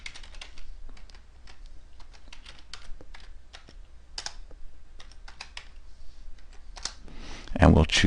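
Irregular clicking keystrokes on a computer keyboard, close and fairly quiet, with a voice talking over the typing and a louder burst near the end.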